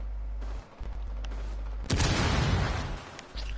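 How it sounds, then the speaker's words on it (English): In Rainbow Six Siege gameplay, a sudden explosive blast erupts after a quieter stretch of muffled popping and crackling, its rumbling burst lasting about a second before fading back to the low background. "There's explosions everywhere."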